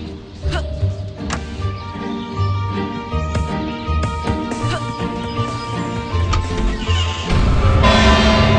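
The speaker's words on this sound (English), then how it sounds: "There goes that stupid bell again." In the video game Scary Teacher 3D, a bell rings with sustained tonal chimes over loud game sounds, thuds and clatter building toward the end.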